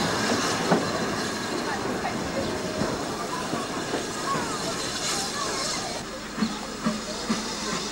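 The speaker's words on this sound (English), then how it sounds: "A Cantabrian mogul nears the end of its journey." A Cantabrian narrow-gauge mogul steam locomotive draws its train toward the end of a run in Spain, with a steady rumble, rolling wheel clatter and faint hiss, plus several sharp clanks near the end.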